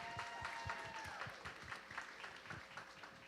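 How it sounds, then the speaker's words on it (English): Round of applause for seniors at a youth leadership event, steady rhythmic clapping from a modest crowd, fairly faint and even throughout. "let's give them one more round of applause for our seniors"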